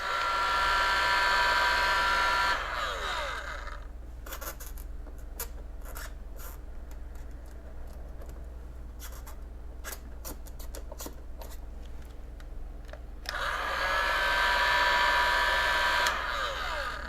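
A heat gun warms black vinyl wrap on the nose of a silver Acura NSX. Its airy blower roar starts loud and close, drops away into quiet scraping and handling sounds, then returns at full strength near the end.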